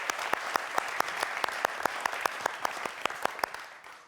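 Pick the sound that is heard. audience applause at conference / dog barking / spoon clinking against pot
audience applause at conference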